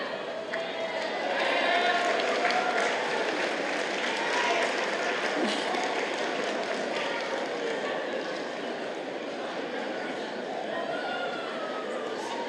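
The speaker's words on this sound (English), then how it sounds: "Big cheer." Graduates at a BCIT convocation ceremony cheer and applaud their families, a dense, sustained wash of clapping and crowd noise that fills a large hall at a steady, fairly loud level.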